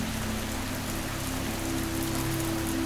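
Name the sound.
heavy rain falling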